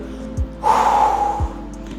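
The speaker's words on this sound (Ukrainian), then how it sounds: "Робимо глибокий вдих. І через рот видих." A deep breath is let out through the mouth during a yoga session, one soft, airy exhale in the middle of an otherwise quiet, close moment.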